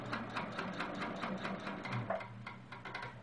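A sewing machine stitching a quilt block, steady rapid mechanical clatter of evenly spaced needle strokes close by, running alone without talk.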